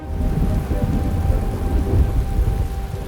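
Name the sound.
thunderstorm with rain in a railway control video game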